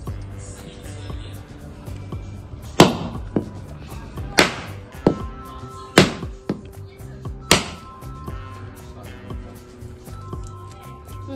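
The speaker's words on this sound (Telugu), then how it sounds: "పిల్లలతో అయితే నేను కొబ్బరికాయ కొట్టిస్తున్నాను." A coconut is struck open for a Ganesh immersion ritual: about four sharp, hard cracks spaced a second or two apart, close and loud over a quiet background.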